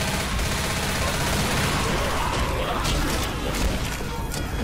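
Dense, continuous gunfire and crashing impacts in Left 4 Dead fill the whole stretch at steady loudness, rapid overlapping shots forming a busy fusillade with faint voices in the mix.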